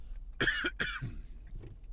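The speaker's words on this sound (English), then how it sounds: "excuse me, I'm going to cough" Two sharp, harsh coughs in quick succession, close and fairly loud, followed by a softer throaty sound and quiet background.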